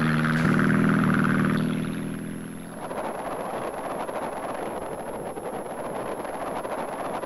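A motorcycle engine in GTA San Andreas starts failing, its loud, steady drone cutting out after about two seconds and giving way to a rushing wind-like roar.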